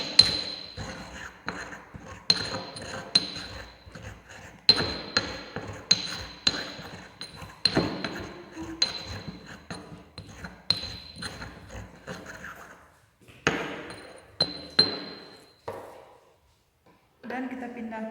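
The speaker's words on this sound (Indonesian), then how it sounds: "kemudian kita aduk" Crushed flower petals are stirred with alcohol in a glass container, producing repeated sharp, bright clinks in an irregular rhythm, close and fairly quiet, with a low voice in the background.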